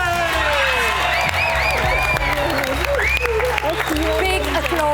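A studio audience at a Hell's Kitchen UK cooking competition applauds loudly and steadily, with some cheering and whoops, while voices talk over the clapping throughout.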